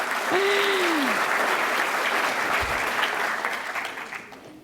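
An audience at a public talk on political civility claps steadily in a dense burst of applause that fades out toward the end, with a short whistle-like tone early on.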